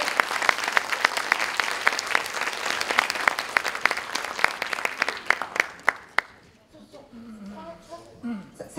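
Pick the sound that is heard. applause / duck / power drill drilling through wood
applause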